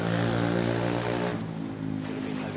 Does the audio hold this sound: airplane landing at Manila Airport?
yes